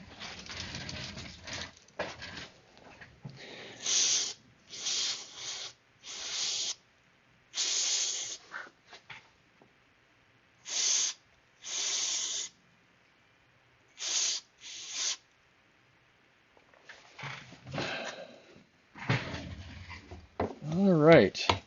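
Cleaner sprayed into the motor and bearings of an Athearn GP35 model locomotive during a restoration, a series of sharp aerosol hiss bursts of varying length with pauses between, close and loud, alone.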